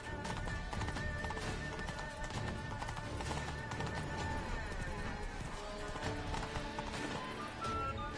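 Roach, a horse in The Witcher 3 video game, gallops with rapid, steady hoof clip-clops that run the whole way through, layered under in-game music and ambience.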